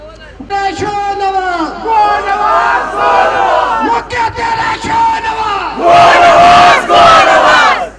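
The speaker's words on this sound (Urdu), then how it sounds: "کچھ نعرے لگاؤں گا" Protesters outside a press club in Quetta shout political slogans: a leader calls out lines and the crowd answers in loud, rhythmic unison, ending in two big roaring responses.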